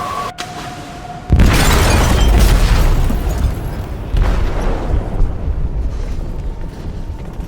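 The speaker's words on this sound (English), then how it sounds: "They detonated an explosive in the hold." An explosive going off in a ship's hold in Detroit: Become Human: after a brief tone, a sudden loud blast gives way to a long roaring, rumbling aftermath, with a second surge of debris noise.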